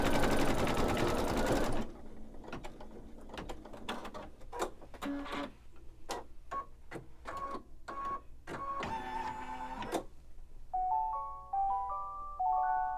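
An embroidery machine stitches rapidly at first, then pulses in short mechanical bursts and whirs, ending with a little series of electronic beeps as it finishes.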